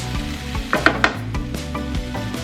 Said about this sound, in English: then we're going to saute that until it browns